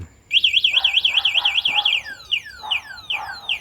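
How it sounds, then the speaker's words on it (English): A DYU A1F 16-inch folding electric bike's loud electronic alarm wailing with a rapid warbling tone, then switching to repeated descending sweeps, close and piercing. "Let's try and switch the alarm off."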